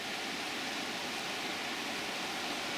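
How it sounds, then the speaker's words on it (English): Water pours steadily over a small weir on a shallow river in Wharfedale, a continuous broadband rush that holds even and fairly loud throughout with no voices. "And there's a weir,"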